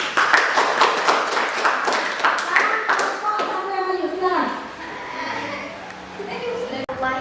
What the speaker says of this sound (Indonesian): terima kasih tepuk tangan yang meriah buat kelompok 1 tadi